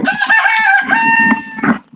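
A rooster crows loudly close by in a chicken coop, one long harmonic cock-a-doodle-doo call lasting nearly two seconds, with hen clucks and scuffling underneath.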